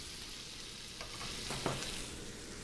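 Butter melts in a pan with acorn squash, giving a soft, steady sizzle and light frying crackle at close range, with a faint scrape or stir partway through and no talking.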